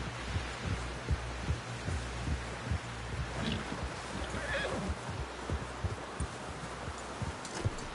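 A horse in the video game Red Dead Redemption 2 gives a whinny amid thudding hoof clip-clops and low rumbling game ambience, the neigh rising briefly mid-scene over the steady plodding rhythm.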